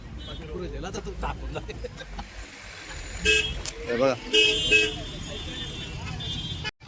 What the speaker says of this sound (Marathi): भरपूर ट्रॉफिक आहे समोर बघताय